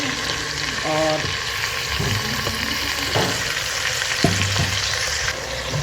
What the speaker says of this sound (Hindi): ये डाल के इसको अच्छे से हमने इसके साथ भूनना है।